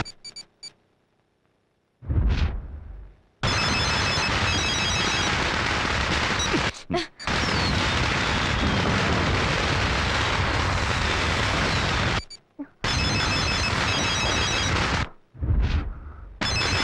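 A telephone rings during a climactic action scene in a Telugu film, its loud, harsh ringing filling long unbroken stretches separated by brief silences, with no talking.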